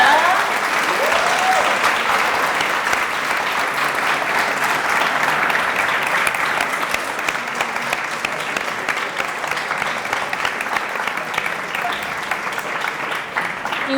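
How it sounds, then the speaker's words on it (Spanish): An audience at a political talk on building an anticapitalist socialist left gives sustained applause for a comrade, a thick wash of many hands clapping steadily throughout and easing slightly toward the end. "le demos un aplauso al camarada"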